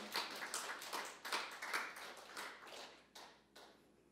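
Scattered, uneven handclaps from a church congregation at a worship service, with separate sharp claps fading out near the end.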